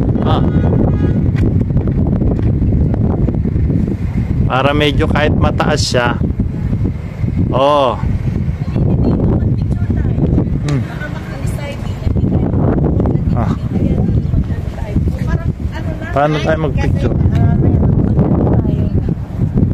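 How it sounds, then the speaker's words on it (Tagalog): Strong wind buffets the microphone with a constant low roar while people talk close by throughout, outdoors in Jerusalem. "So napakalakas po ng hangin."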